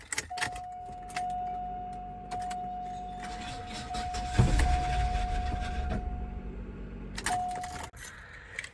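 A mechanically damaged Cadillac Eldorado engine runs roughly after a long crank, with keys jangling and a steady electronic tone from the dash, the rumble swelling briefly in the middle before cutting off.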